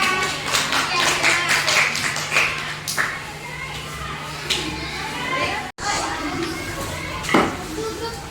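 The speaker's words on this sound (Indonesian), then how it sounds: "Oke, kasih tepuk tangan untuk teman kita." A classroom of children claps for a classmate, scattered and uneven hand claps mixed with kids' chatter and voices, with a brief break partway through.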